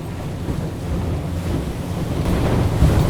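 An Axopar 22 Spyder speedboat's motor rumbles steadily while water rushes and slaps against the hull over waves, with heavy wind buffeting the microphone throughout.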